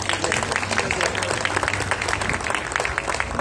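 A crowd at a university auto show claps steadily for mechanical department teachers and students, a dense, sustained wash of applause with some voices mixed in, loud and continuous throughout.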